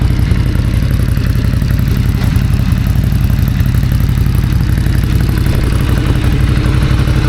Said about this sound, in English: what we have today is a reunion with my Ducati Night Shift Scrambler. Let's start it up.